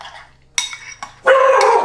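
A pet dog in a home kitchen gives a couple of sharp barks followed by a louder, longer bark or yelp, close by, amid faint clinks of cooking utensils.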